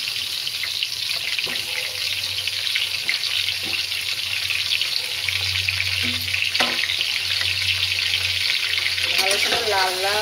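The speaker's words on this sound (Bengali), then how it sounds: "এখন আমি যে পটলগুলো মেখে নিয়েছিলাম, পটলগুলো সব দিয়ে ভেজে নেব।" Pieces of pointed gourd (parwal) fry in hot oil in a pan, giving a loud, continuous sizzle with occasional stirring scrapes and a low hum underneath.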